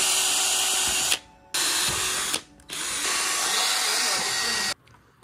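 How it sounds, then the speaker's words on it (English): A power drill whines loudly in three long bursts with short pauses between, drilling holes through an aftermarket fairing on a BMW S1000RR motorcycle, the high-pitched motor strain close to the listener. "And now we're gonna get to drilling."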